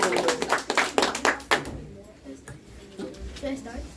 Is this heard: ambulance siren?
no